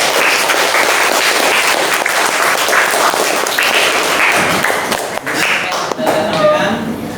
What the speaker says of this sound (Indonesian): Mari kita tepuk tangan semuanya bersama-sama.